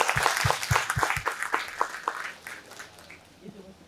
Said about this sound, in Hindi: तो आप लोग टाइम पर आए तो प्लीज़ एक बार अपने खुद के लिए तालियां बजा लीजिए।